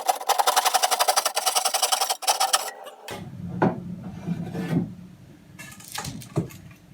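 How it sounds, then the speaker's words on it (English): A cheap back saw, or tenon saw, cuts by hand through a living room floorboard in fast, even rasping strokes, loud and close, and then stops. Knocks and handling noises follow as the cut-off piece is lifted away. "I'm just using a cheap back saw or tenon saw."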